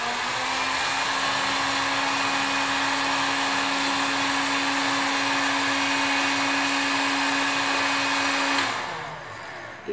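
A hot air blower heats the sides of a workpiece, giving a loud, steady whooshing roar with a constant motor whine that runs unbroken for about nine seconds before cutting off abruptly.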